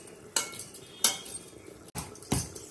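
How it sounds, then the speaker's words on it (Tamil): Poori dough is beaten and slapped against a vessel in a home kitchen, making four sharp, close thumps spaced roughly a second apart with a faint clatter between them. "இப்படி அடிக்கிறதால என்ன சாஃப்டாகும் மாவு"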